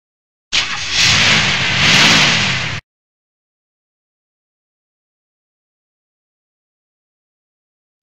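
A car engine revs and drives for roughly two seconds, loud and close with a rising, wavering tone, then cuts off abruptly into silence.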